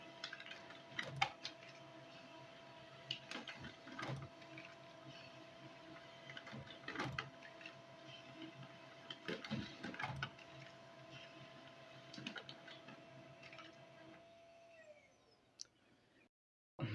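A printer printing a book runs for a long stretch with rhythmic mechanical clicks and ticks over a steady whirring hum, moderately faint and without speech, before the motor winds down and stops near the end.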